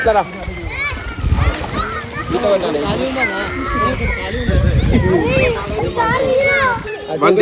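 People splashing and sloshing in a resort swimming pool, steady close water splashes and churning under lively overlapping chatter and children's voices throughout.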